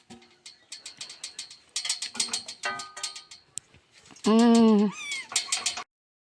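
Kittens stuck up high meowing repeatedly in quick, overlapping high-pitched cries, close by, with one longer drawn-out wail near the end and no talk.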